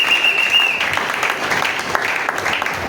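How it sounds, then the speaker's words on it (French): Congregation applauding at a Sunday thanksgiving church service, a dense and steady crowd clapping that stays loud for the whole stretch, with a brief high tone near the start. "Acclamez encore pour le Seigneur"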